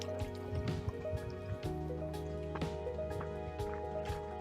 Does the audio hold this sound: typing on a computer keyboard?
no